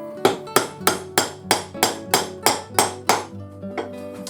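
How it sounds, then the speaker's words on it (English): Hammer strikes knocking a wooden dowel through a 13mm hole in a metal sizing plate for a stick chair, about eleven sharp ringing knocks in a steady rhythm, the last few lighter, close and alone. "one easy way to size this down is to simply knock it through the hole with a hammer"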